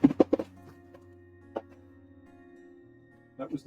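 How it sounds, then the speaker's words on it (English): Off-camera clatter from a dog knocking over a bunch of stuff: a few sharp knocks and bangs at the start, a single thump midway, and more clattering near the end over a steady low hum in a hobby room. "That was the sound of an idiot dog messing a whole bunch of stuff up off camera."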